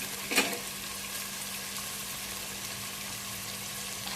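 A tempering sizzles steadily in a pan for a dried meat and red gongura curry, a close, even frying hiss with one brief clatter near the start and no talking.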